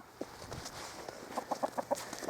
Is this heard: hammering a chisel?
no